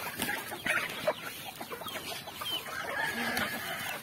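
Shamo chickens clucking on a farm, soft and somewhat distant, with scattered short clucks over a low, steady outdoor background.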